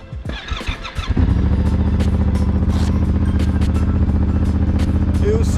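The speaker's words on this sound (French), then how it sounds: "Moto et c'est reparti." A Yamaha Ténéré 700 motorcycle starts up after some early clatter, then settles into a steady, loud, close idle with a constant low rumble through the rest of the moment, no talking over it.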